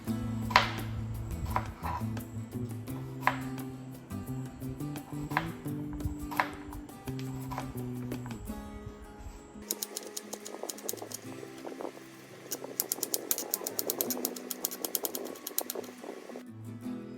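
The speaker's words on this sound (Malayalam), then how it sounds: "ഓലൻ ഉണ്ടാക്കുന്നതിന് വേണ്ടി ഇളവൻ ഇതുപോലെ കനം കുറഞ്ഞു വേണം അരിഞ്ഞെടുക്കാൻ" Thin slices of ash gourd cut with a kitchen knife for Kerala olan, a series of crisp, evenly spaced chopping knocks on a board, close and fairly loud, with a brighter clattering texture later on.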